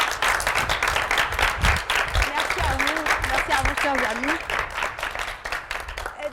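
Audience applause at a school student debate on social media, welcoming the lead host, with steady clapping throughout and a voice speaking over it.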